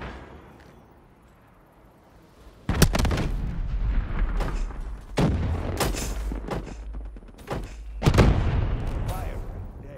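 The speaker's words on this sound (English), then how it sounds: "Hellstorm inbound." Hellstorm missile strikes in Call of Duty Black Ops III, a string of heavy booming explosions arriving one after another at irregular intervals, loud and rumbling, with some game chatter in between.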